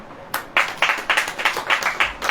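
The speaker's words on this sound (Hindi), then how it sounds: "ताली बजाओ" A church congregation claps hands in a steady, quick rhythm, about four sharp claps per second, close and fairly loud with no talking over it.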